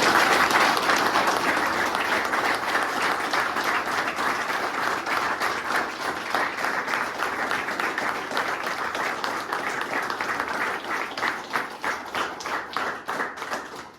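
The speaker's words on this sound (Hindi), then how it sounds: "सोबर जिंदगी जीते हुए जोरदार तालियां दीजिए" A room full of people at a rehab centre session applauds warmly, a dense patter of clapping that holds steady and then thins out toward the end.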